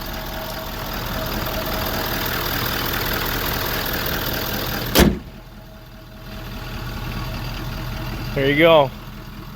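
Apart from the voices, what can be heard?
Ford 6.7 Powerstroke diesel engine idling after turbo replacement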